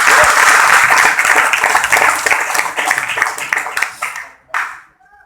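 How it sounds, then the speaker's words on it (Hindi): An audience at a Life Viva Wellness motivational meeting in Rewari bursts into loud, dense applause that thins into scattered claps and stops. "एक बार जोरदार ताली आप लोगों।"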